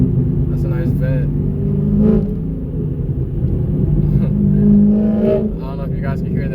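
A Corvette engine rumbles and revs nearby in city traffic in Atlanta, a deep steady growl with a couple of swelling revs over other passing traffic noise.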